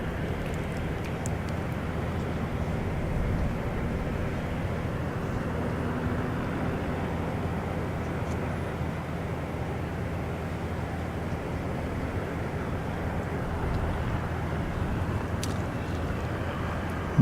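Air Corsica A320ceo jet on a runway at Zurich Kloten Airport, a steady, broad distant roar of engines that holds level throughout without a clear rise, no talk.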